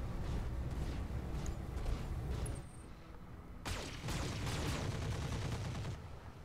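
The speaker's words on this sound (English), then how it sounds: "Let's try for a shoulder hit, firing the missiles." Missile salvo launched in the BattleTech mod Roguetech: dense, loud rumbling bursts of fire that drop briefly near the middle, then surge again with a sharp crack and roar through to the end.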